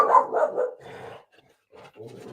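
Dogs barking indoors at home, a few loud close barks in quick succession, then quieter yips trailing off after a short pause.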